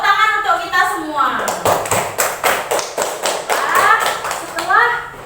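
A classroom of primary-school children in Indonesia claps together in a rhythmic, patterned beat of sharp hand slaps, loud and close, with children's voices chanting over it at the start and end.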